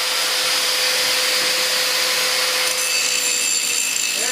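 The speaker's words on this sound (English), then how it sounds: "Sort of put the grinder at an angle. And do it like that. Because the edge of the wheel does the work." Angle grinder held at an angle, edge of the spinning wheel grinding metal while making a rotary engine stand adapter; a continuous loud, bright abrasive whine runs steadily throughout with no talk.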